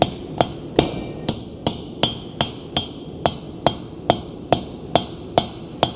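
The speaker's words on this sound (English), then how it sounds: "I'm not swinging hard with the hammer." A hammer strikes hot steel while forging a knife, in a steady rhythm, about two ringing blows per second, each sharp clang close and clear with a faint hum between strikes.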